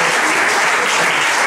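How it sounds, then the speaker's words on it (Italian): Loud, close, dense applause from a festival audience in a castle setting at a Mediterranean cultures event, steady throughout. "Alex, un applauso per te."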